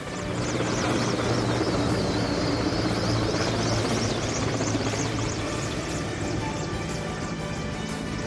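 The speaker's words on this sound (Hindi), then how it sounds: "हर तरफ वायुसेना के विमान अस्पतालों पर पुष्प वर्षा करने लगे।" Indian Air Force aircraft fly over hospitals during a flower-showering salute to Corona warriors, giving a loud, steady rotor-like drone that holds throughout with no voices.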